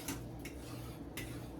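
Chicken is stirred in a pot with a few light metallic scrapes and clinks of a utensil against the pot, quiet and close, spaced apart over a low background hum.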